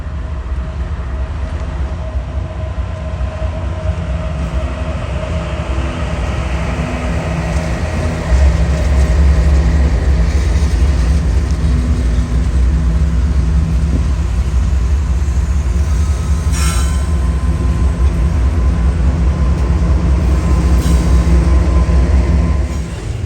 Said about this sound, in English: From trains charging out of the yard, or those that are lumbering in, the sheer scale of the operations here are astonishing.